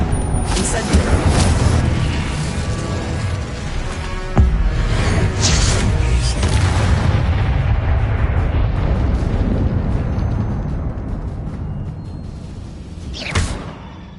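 Hogwarts Legacy's Incendio fire spell bursting with a loud, roaring whoosh amid booming combat effects, sustained and close, with sharp impacts near the middle and end.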